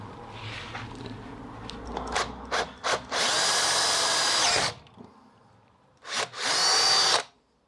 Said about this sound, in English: So just going to drill that hole all the way through.